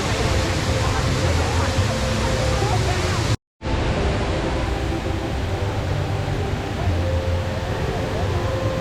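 The indoor waterfall at Jewel, Changi Airport in Singapore roars as a dense, steady wash of falling water, broken by one sudden brief dropout, with faint voices beneath the rush.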